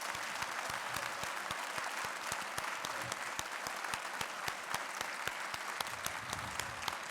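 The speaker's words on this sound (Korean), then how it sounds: "학부모님과 교수님들께서는 졸업하는 학생들을 위하여 박수를 보내주시기 바랍니다" A large audience at a university graduation ceremony applauds the graduating students with steady, even clapping that sounds somewhat distant and continues throughout.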